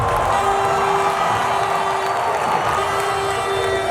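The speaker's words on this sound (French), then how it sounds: "très applaudi par l'assistance venue des 4 coins du monde" A crowd applauds and cheers steadily at the FESPACO 2021 opening ceremony, dense continuous clapping with scattered shouts and whoops filling the whole stretch at a loud, even level.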